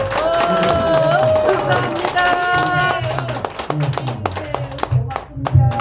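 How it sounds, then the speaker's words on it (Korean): Lecture audience clapping in a hall, many hands beating with sharp taps over a sustained musical tone and low rhythmic thumps. The clapping thins out toward the end. "한번 더 모시기를 바라면 큰 박수 한번 부탁드립니다"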